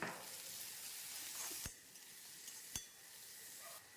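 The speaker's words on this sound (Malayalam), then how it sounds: "വെളിച്ചെണ്ണ ചൂടായതിനു ശേഷം ചെറുതാക്കി അരിഞ്ഞു വെച്ചിട്ടുള്ള വെളുത്തുള്ളിയും ഇഞ്ചിയും ചേർത്ത് കൊടുക്കാം" Garlic, ginger, green chilli and onion fry in coconut oil with a steady bright sizzle, stirred with a couple of sharp utensil knocks against the pan, and no voices.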